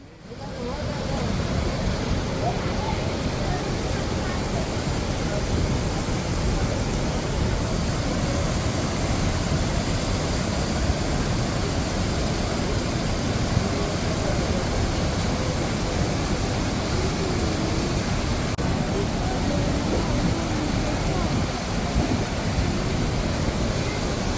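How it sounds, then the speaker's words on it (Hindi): Fast-flowing Saraswati river near Badrinath rushing loudly and steadily, a dense continuous roar of churning water close by with no talk over it. "मैं आपको आवाज़ सुनाता हूँ सरस्वती नदी की आगे, तो आप सरस्वती की गूंज सुनकर आपको भी हैरानी होगी कि इतना निर्मल वाटर है"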